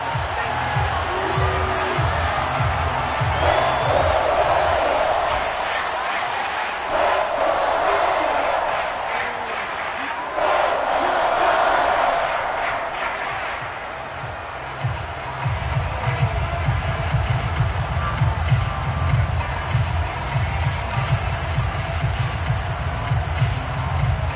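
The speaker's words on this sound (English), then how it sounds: "Plenty of shouts from this crowd as they watch the replay." A stadium crowd in a Madden football video game shouts and cheers steadily as a replay is shown, with a commentator talking over the crowd noise throughout.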